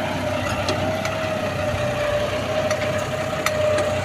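A John Deere 5210 GearPro tractor fitted with an Umiya plough runs at a steady, moderately loud engine drone with an even hum and occasional light clicks, and no talking.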